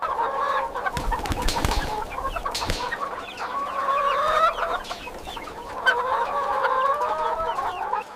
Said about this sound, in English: The Plymouth Rock chickens settle down to sleep.